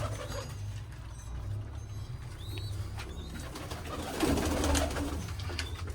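Low pigeon coos repeat softly in the background amid faint ambient noise and an occasional chirp.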